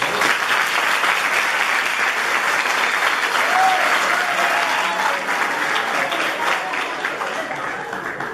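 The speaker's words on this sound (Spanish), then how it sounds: "entonces les vamos a regalar un aplauso a ellos" Sustained audience applause for teachers at a conference on inclusive education, a thick continuous roar of clapping from a large crowd, steady and loud for several seconds before gently tapering off.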